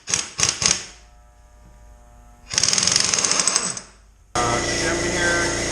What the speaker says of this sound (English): You grab your fancy impact. It's just a 32mm socket